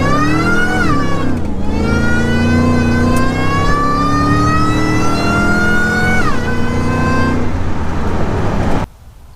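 A tuned truck fitted with an intercooler accelerates hard, its engine note climbing steadily through the gears with a brief shift dip, loud and close, then cutting off abruptly near the end.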